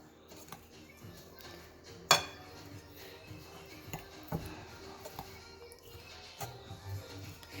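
A spoon works a coarsely ground spice mixture with black pepper in a bowl, producing quiet, irregular clinks and scrapes, with one sharper knock early on and softer taps scattered after.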